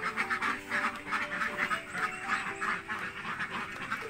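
A flock of laying ducks quacks at feeding time, a nearby chorus of rapid, overlapping nasal calls that repeat steadily and never pause, with no talking.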